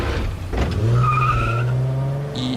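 Car in the Silent Hill 2 Remake game skids with a sustained tire squeal over a low engine drone, then a brief impact near the end, with no voices.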